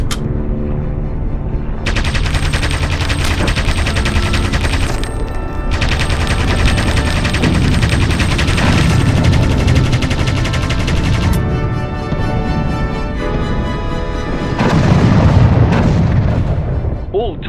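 Anti-aircraft gunfire in the video game Aviators: dense, sustained bursts of cannon and machine-gun fire with booming impacts, loud and continuous over a droning backdrop, with no one talking.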